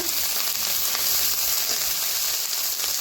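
Onion and chili paste sizzle in oil in a pan, a steady close frying hiss with faint scraping as the paste is stirred.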